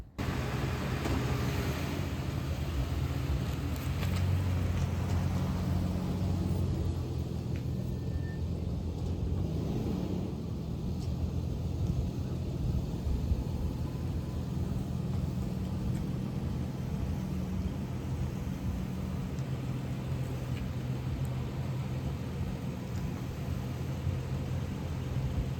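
A Toyota Tacoma truck is driven and moved, giving a steady low engine rumble with road noise, fairly quiet and continuous, with no talking.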